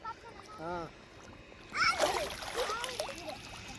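A child learning to swim splashes in a river while bathing, with brief close sloshing and churning water after short voices and shouts nearby.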